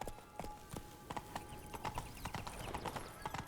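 A horse's hooves clip-clop steadily in The Witcher 3: The Wild Hunt, a regular walking rhythm of faint, crisp hoofbeats over a soft ambient background.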